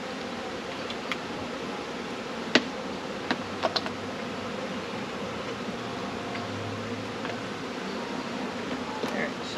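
Honey bees hum in a swarm box, a dense steady buzz close by, with scattered knocks and clicks of handling over it.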